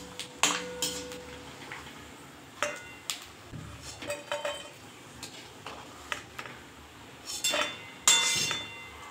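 Roasted coconut is scraped from a pan onto a plate for chivda, with a series of irregular metallic clinks and scrapes of spoon against cookware, close and fairly quiet, in bursts separated by short pauses.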